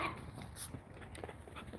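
A dog whimpers faintly in short, soft whines over a quiet indoor background.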